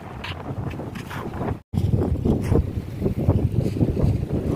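Steady wind buffets the microphone with gusty, rumbling noise, loud and continuous apart from a brief dropout.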